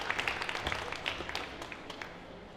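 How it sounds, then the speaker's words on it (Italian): Audience applause at a cycling event, a thin scattering of claps heard at a distance, quiet and uneven, thinning out toward the end. "Applauso a Bernardino e alla Libertà di Ceresè"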